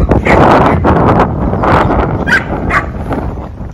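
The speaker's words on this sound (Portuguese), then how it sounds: "Os cachorros estão presos." Several dogs shut in behind a gate on a rural property bark and whimper continuously and close by, eager to get out, with wind buffeting the microphone throughout.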